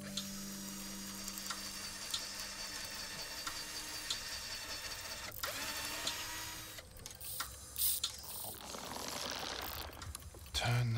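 Sprocket and spring mechanism being assembled, giving a steady run of small mechanical ticks and ratcheting clicks over a continuous whirring hum, with sharper clatters and a brief louder burst near the end.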